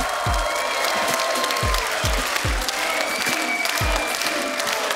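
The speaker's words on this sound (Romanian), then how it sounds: "Aplauze pentru monstru!" Studio audience applause on a televised masked singing show, a steady wash of clapping and cheering with a few deep thumps recurring beneath it.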